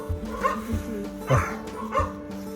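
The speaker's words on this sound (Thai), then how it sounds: "มีหมาเห่าด้วยฮะ" A dog barks in a few sharp, close yips and bow-wows on a mushroom-picking mountain trail near Lijiang, China, with faint background sound between barks.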